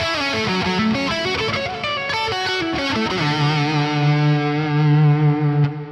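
Electric guitar played through a brutal high-gain amp simulator with delay and a filter effect added, sounding as a distorted riff that settles into sustained, sweeping filtered notes, loud and continuous with no talking.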